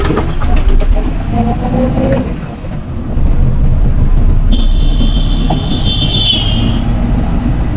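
A car drives along an empty, open road during a beginner driving lesson, its steady engine and tyre rumble filling the whole stretch, easing briefly before picking up again, with a thin high whine joining later.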